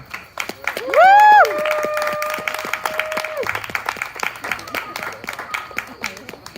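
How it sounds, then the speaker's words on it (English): Audience clapping at an outdoor Freedom To Vote rally in Charles Town, WV, steady scattered applause with cheering voices and a loud whoop rising over it early on. "Let's give another round of applause for Miss Lynnae"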